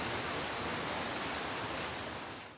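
Forest ambience in the Animal Crossing video game, set inside a dimly lit house: a soft, continuous broadband rush like wind through trees, steady and even, fading out at the end with no talking.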